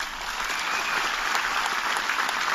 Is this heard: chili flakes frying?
no